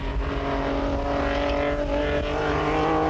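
A Nissan Hardbody rally vehicle races in the Sugarbelt 400, its engine droning loud and steady throughout with a continuous roar close by.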